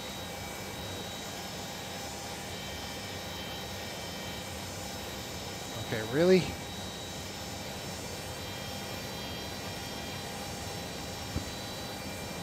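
Three Boeing 727 jet engines in a flight simulator game spool up to breakaway thrust for taxiing, a steady broad roar throughout with a brief rising whine in the middle and a short spoken remark.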